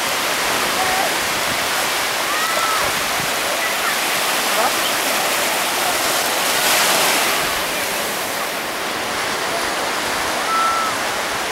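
Sea waves wash in a steady, loud, unbroken roar of surf at Palolem Beach in Goa, India, heard up close with wind-like hiss and no break in the sound.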